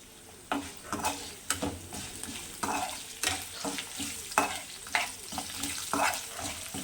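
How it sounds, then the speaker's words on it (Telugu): Mustard-seed tempering with peanuts, green and dried chillies, curry leaves, turmeric and asafoetida sizzles in a kadai for temple-style pulihora, with a steady fry under repeated scraping stirs of a spoon against the pan, close and moderately loud. "బాగా వేగనిద్దాం"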